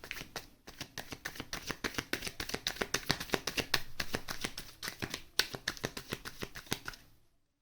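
A deck of tarot cards is shuffled up close in a continuous run of quick riffling flutters lasting about seven seconds, with no voices.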